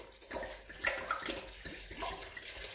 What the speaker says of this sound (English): I'm simply going to pour the entire bottle in.